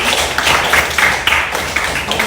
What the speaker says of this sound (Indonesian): Kalau begitu boleh kita kasih tepuk tangan untuk dua orang.